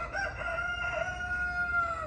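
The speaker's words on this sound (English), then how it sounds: "There's some chickens." A rooster crows in a residential neighborhood in Playa del Carmen, Mexico, a drawn-out call at moderate distance over a steady low background rumble, with no talking.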